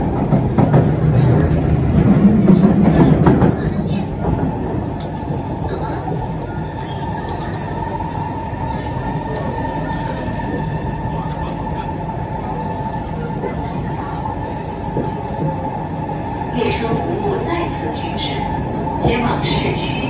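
An SMRT C151C metro train runs between Bukit Gombak and Jurong East in Singapore, heard from inside as a steady rolling rumble with wheel noise that grows louder at the start and brief squeals near the end.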